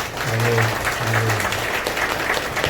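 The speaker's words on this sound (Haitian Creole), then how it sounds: "On applaudit mon Dieu maintenant." Church congregation applauding during a Sunday service, a steady wash of clapping from many hands filling the room, with a voice briefly heard over it.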